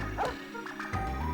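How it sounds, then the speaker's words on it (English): A small dog in the video game Opoona gives short yipping barks and whimpers over steady game background music. "That's a dog."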